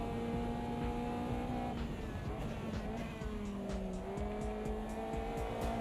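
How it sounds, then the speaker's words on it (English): A race car in the Automobilista 2 sim racing game holds a four-wheel slide through a corner, a steady engine drone with shifting pitch and a continuous tire scrub underneath, moderately loud and without talk. "That's the kind of four-wheel slide we want through there."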